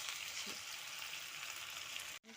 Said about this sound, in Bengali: কোয়াশের ডোগার সাথে সবজি দিয়ে ভালো মতো একটু ভাজা ভাজা করে নিচ্ছে